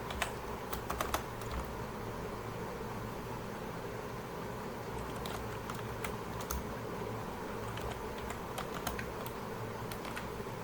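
Rapid, uneven typing on a computer keyboard while entering VB.NET practical code, with clusters of sharp key clicks over a steady low background hum and no talking.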